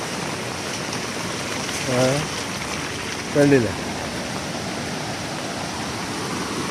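Floodwater rushes strongly after nonstop heavy rain as the river rises, a steady broadband roar of flowing water that holds constant throughout, with a couple of short spoken phrases over it.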